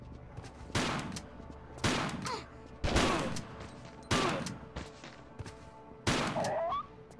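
Gunfire in a Tomb Raider custom level, Fading Light's Sunken Manor: five loud, evenly spaced shots about a second apart, each with a rough echoing tail, over a low background hum.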